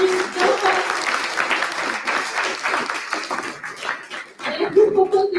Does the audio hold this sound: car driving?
no